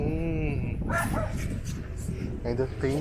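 Several dogs bark and yip excitedly near a railway line in Curitiba, loud and close, with a voice talking over them.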